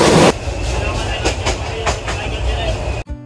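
The Parabat Express train from Dhaka to Sylhet rumbles along steadily from inside, with a low continuous roar and a few periodic clacks of wheels over rail joints.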